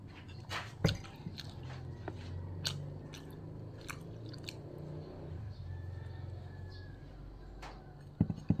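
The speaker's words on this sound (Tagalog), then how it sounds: "Kain tayo. Itlog na laga." Someone alone at home eats a hard-boiled egg for breakfast, with soft, close biting and chewing sounds and a few sharper clicks near the end, quiet and without talk.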